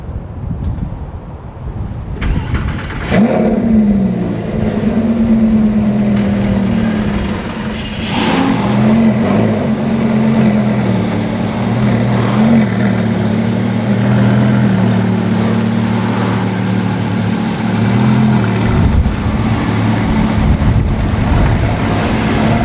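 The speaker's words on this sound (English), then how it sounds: "we're going to go take these cars out for a drive" Lamborghini Gallardo LP550 with E-gear transmission driving, its engine droning steadily and revving up and down through the gears, heard with heavy wind buffeting, loud and continuous with no talk.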